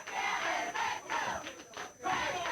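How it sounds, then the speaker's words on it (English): A live wrestling crowd in Memphis shouts and cheers in loud, surging waves, with chants rising and dipping briefly before swelling again, all close and filling the space. "the crowd is into this one"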